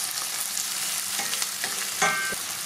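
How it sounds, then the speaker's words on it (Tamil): Onions sauté in hot oil in a kadai for samosa stuffing, giving a close, steady sizzle broken by a few sharp scrapes and clinks of a spoon being stirred. "அப்புறமா நம்ம வந்து ஃபர்ஸ்ட் வெங்காயத்தை உள்ளே போடலாம். இப்போ நம்ம நல்லா வந்து வதக்கி விட்டுக்கலாம்."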